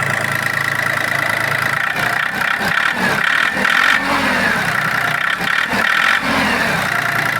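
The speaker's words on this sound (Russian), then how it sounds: "Двигатель работает мягко, посторонних звуков нет." The small engine of a Japanese ISEKI TU225 mini tractor runs steadily up close, its pitch rising and falling slightly as it idles and revs a little.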